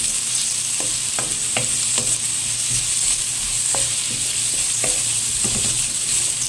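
Chopped onion and garlic sauté in hot oil in a pan, a steady close sizzle punctuated by irregular clicks and scrapes of stirring.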